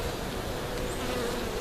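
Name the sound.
honey bees buzzing in bee yard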